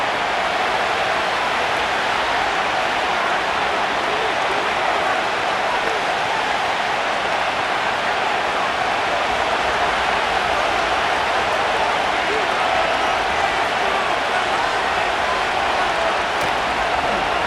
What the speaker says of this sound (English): drawing some oohs and ahs from the crowd